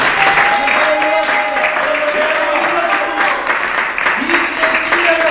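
A church congregation applauds in a steady, dense wash of clapping for about five seconds, with sustained musical or sung tones running underneath.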